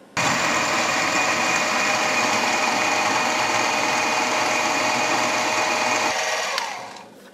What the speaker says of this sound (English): I'm using a letter I drill bit on this.